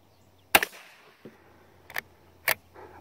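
Iver Johnson Model X single-shot .22 rifle fired outdoors, several sharp, short cracks spaced about half a second to a second apart, with a faint softer click between them and no speech.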